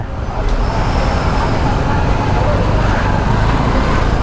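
Road traffic jam with trucks and other vehicles on a route from Gudiyattam to Odugathur, a loud, continuous rumble of idling and slow-moving engines filling the whole stretch at close range.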